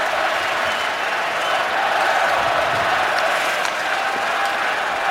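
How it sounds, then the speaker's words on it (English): Hockey arena crowd during an NHL playoff game between the Phoenix Coyotes and Detroit Red Wings, a dense, steady roar of many voices chanting and cheering that holds at full level throughout. "And as in game one, the crowd starts the chant early."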